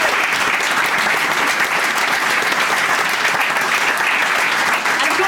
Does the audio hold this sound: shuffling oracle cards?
no